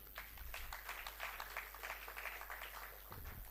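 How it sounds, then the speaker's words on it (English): Crowd at a national students' budget forum clapping continuously, a faint, steady patter of many hands held at low level throughout. "Continuous clapping."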